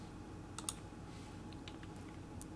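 Typing on a computer keyboard, a few sparse, faint key clicks over a quiet room background.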